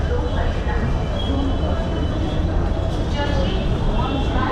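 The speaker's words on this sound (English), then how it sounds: "But the train seems to be coming now." A train rumbles steadily nearby while pulling into a station in India, a dense low mechanical roar with faint metallic tones.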